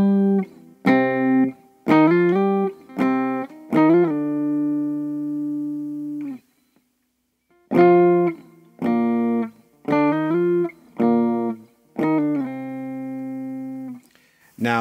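Electric guitar picking out the Game of Thrones theme pattern with strong slides, clean sustained notes in rhythmic phrases and a brief pause midway, played close and alone.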